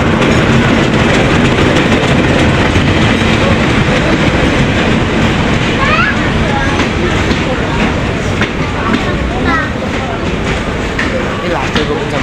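A train pulling into a station, loud and close with a rumbling roar of wheels on rails, faint clickety-clack and a few brief squeals, while people talk nearby.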